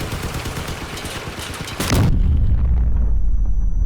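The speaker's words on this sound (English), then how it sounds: "took a cannon shell, no damage" Rapid gunfire rattles in the video game Crossout, then a heavy boom lands as a cannon shell hits a machine-gun tank, leaving a deep rumbling tail, loud and close.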